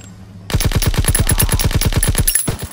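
A rapid, evenly paced burst of about fifteen loud gunshots from Call of Duty WWII erupts after a quiet moment, close and punchy with echo trailing each round, pausing just before the end.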